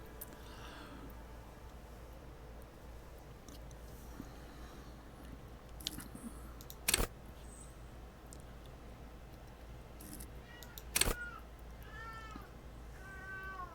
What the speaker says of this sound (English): Sorry for my cat in the background.